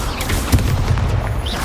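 Incendio fire spell cast in the Hogwarts Legacy video game, a burst of low booming whooshes with a sharp thump near the middle, loud and continuous over the short stretch with no talk.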